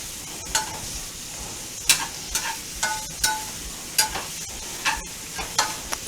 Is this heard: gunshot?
no